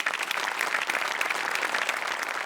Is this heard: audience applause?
yes